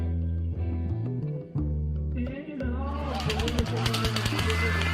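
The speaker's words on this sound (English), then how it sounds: "a storm of gunfire raining down upon an innocent crowd" Gunfire at the Las Vegas country music festival shooting: rapid, crackling bursts of automatic shots break out over loud live music in the second half and continue to the end.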